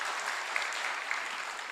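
A gathered audience at an Indian poetry recital applauds in a continuous, even wash of clapping, fairly faint and without pauses.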